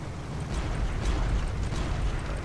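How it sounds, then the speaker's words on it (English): Cannons on an airship fire in the video game Guns of Icarus, heard as a rolling, muffled low-end rumble of overlapping blasts. The barrage is fairly faint and continuous, with no single distinct shot. "Fire all the cannons!"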